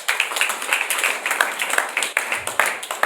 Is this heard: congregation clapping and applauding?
yes